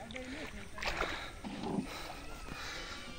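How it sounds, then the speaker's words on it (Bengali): A fishing boat approaches along the Gorai River with steady broadband water wash and splashing, swelling slightly near the middle, while muffled voices murmur beneath it. "আমাদের নৌকাটা এসে পড়ছে"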